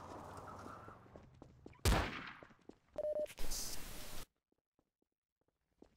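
Gunfire in an OCRP role-play video game: a loud burst of shots cuts in partway, followed by further rapid bursts of gunfire, then near silence with faint clicks.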